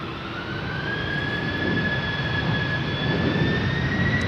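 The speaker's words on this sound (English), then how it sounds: "The engines are spooling up. Let's get loud." Jet airliner engines whine and roar steadily while spooling up for takeoff on Polderbaan runway 36L at Amsterdam Schiphol, a high tone slowly rising as the thrust builds, loud and continuous with no talking.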